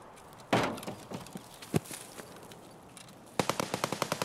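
Video game gunfire as a bloodhounds event fight breaks out near a factory: a heavy blast, scattered shots and a sharp crack, then a fast rhythmic burst of automatic fire near the end, loud and close with no talking.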